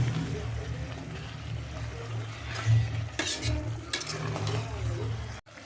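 Coriander and mint leaves sautéing in oil for mutton biryani, with a crackling sizzle under repeated spoon scrapes and clinks against the pot, close and moderately loud, cutting off abruptly at the end.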